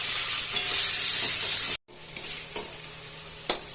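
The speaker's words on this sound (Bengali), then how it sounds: "এখন সমস্ত মশলাগুলো সুন্দর করে ভেজে নেব।" Tomato and potato fry in a pan with salt, turmeric, chilli powder and coriander-cumin powder, making a loud, steady hiss. It cuts out briefly, then returns softer with a few distinct scrapes of a spoon stirring.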